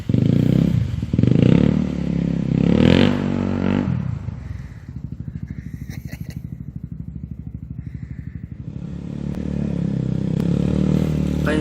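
A Honda CRF 250 enduro dirt bike rides bush trails and fishtails through a section. Its engine revs loudly at first, then settles into a steady, close, pulsing low-rev putter before picking up again.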